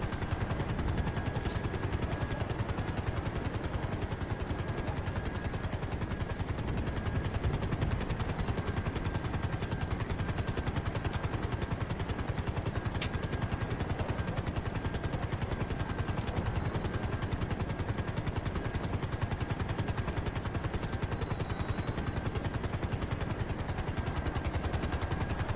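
A steady helicopter rotor drones throughout in GTA Online, mixed with a constant noisy wash that may hide gunfire, unchanging and loud for the whole stretch.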